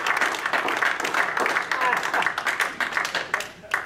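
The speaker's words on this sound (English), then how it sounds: "And you're only applauding because I'm not going to play the damn thing." Applause from a live audience fills the room, a thick, steady clatter of many hands holding at even strength before easing slightly at the end, with a voice faintly present beneath it.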